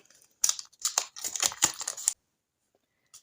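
Crinkly paper rustles and tears in several quick bursts up close, followed by silence and one brief final crinkle.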